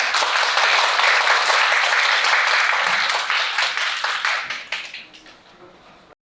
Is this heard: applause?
yes